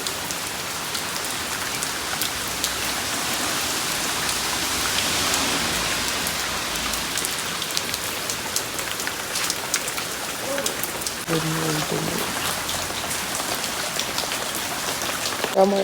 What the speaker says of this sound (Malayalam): മഴ പെരുമഴ എന്തൊരു മഴയാണ്